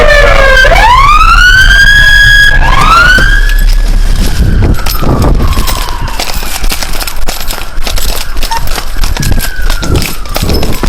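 A police patrol car siren wails loudly and close, rising and falling in sweeping tones that then settle into a continuous blaring wail over engine and road noise.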